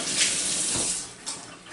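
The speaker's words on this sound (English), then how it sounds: "we wash our hands" A kitchen tap runs steadily while hands are washed with soap and water beneath it, a continuous close splashing hiss with slight surges as the hands move under the stream.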